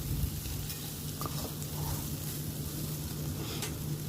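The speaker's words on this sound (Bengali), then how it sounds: "সুন্দর করে ভেজে নেব যাতে ভেন্ডিটা পুড়ে না যায়" Okra fries in a pan with a soft, steady sizzle and occasional stirring scrapes. The frying is quiet and continuous throughout, with no talk.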